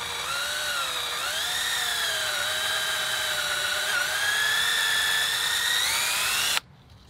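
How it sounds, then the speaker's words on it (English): A power drill whines continuously as it bores through a wooden A-frame level's cross member, its pitch rising and falling, then cuts off abruptly near the end. "we're going to drill all the way through right here where this cross member will mount."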